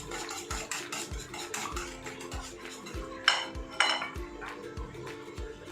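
A spoon scrapes and taps in a bowl as yogurt is stirred smooth for a beef tikka batter, making soft, steady clinks with two sharper knocks near the end, fairly quiet.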